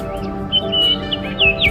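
Several bright, high chirps from a small bird, quick and close, with a faint steady hum underneath.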